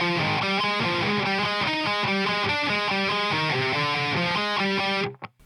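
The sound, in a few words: distorted electric guitar playing a riff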